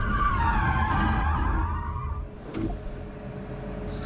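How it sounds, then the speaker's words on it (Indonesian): An electric car drifts and spins, tires screeching loudly in a long wavering squeal that fades out, followed by lower road rumble and a brief second chirp. "Tapi di sini tenaga tuh langsung datang dan tanpa ampun langsung mobilnya itu muter"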